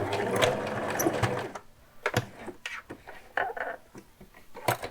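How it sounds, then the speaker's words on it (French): A sewing machine stitches a straight seam back and forth to lock the thread, with a dense whirring run at first, then short, separate bursts of stitching, close and clear. "je vais faire un petit aller-retour en point droit, juste pour bloquer mon fil"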